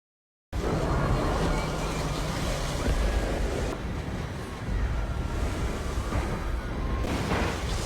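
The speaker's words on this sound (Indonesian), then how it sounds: "Mereka pun tergulung ombak." Powerful, roaring surge of crashing tsunami waves in a film scene fills the whole stretch, a dense, continuous wash of churning water with wind noise and no pause.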